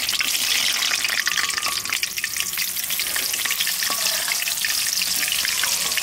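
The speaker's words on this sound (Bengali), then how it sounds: "এবার দিয়ে দেবো কাঁচা লঙ্কা।" Green chillies dropped into hot mustard oil for raw mango pickle: a loud, dense, crackling sizzle that holds steady throughout, close up, with faint stirring.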